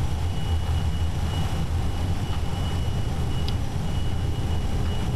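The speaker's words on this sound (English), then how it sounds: "I push my hardware thrust levers all the way to the front and the plane starts accelerating." Airliner jet engines spooling up during a takeoff roll in a flight simulator, a loud steady broadband roar with deep low rumble that holds constant throughout.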